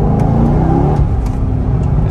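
A Chevrolet C6 Corvette engine pulls in second gear around 2,500 RPM, a loud, steady low growl heard from inside the car with a slight rising tone.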